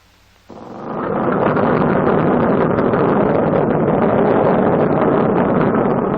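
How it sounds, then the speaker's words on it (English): Four piston engines of a 1944 B-29 bomber start up after a brief quiet moment, building at once into a loud, steady, dense roar that continues without a break. "The same procedure is repeated until all 4 engines are running."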